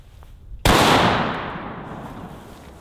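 A sawed-off double barrel shotgun fires a single loud blast of double-aught buckshot at 7 yards, sharp and close, its report ringing out and decaying over a couple of seconds with no talk.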